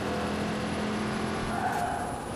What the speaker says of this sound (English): I am one nitrous-jacked smart car.